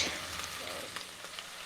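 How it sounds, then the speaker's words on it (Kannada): Food sizzles in a pan while being fried toward brown, a soft, steady crackle with a few light stirring scrapes, faint and close, with no talking. "ಇದು ಬ್ರೌನಿಷ್ ಆಗೋವರೆಗೂ ಫ್ರೈ ಮಾಡಬೇಕಾಗತ್ತೆ ನೀವು"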